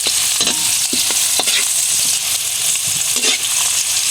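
Chicken sautéing in a soup pot sizzles steadily and close, with the scrape and clatter of a spoon stirring every half second or so and no voices.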